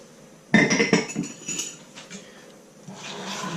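A spoon stirring coffee into cake batter for a coffee and walnut cake in a kitchen bowl, with a loud clink against the bowl, then softer scraping and knocking taps, alone with no talk.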